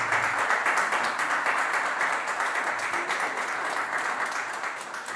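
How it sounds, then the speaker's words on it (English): Audience applause at a conference on youth, climate change and debt in Nigeria, steady sustained clapping from a room full of people that gradually softens, heard alone as a speaker walks onto the stage. "Please keep clapping as he gets on stage."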